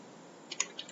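A computer keyboard typed on during a Python coding session: a few quick, light key clicks in a short burst, close and fairly quiet over faint background hiss.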